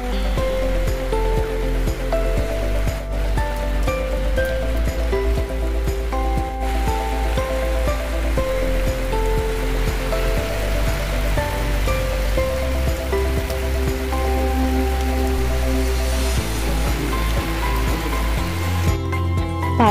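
Rain falls steadily in Kerala, a dense, loud rushing hiss that continues unbroken for the full twenty seconds.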